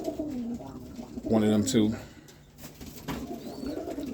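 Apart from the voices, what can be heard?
roller pigeons cooing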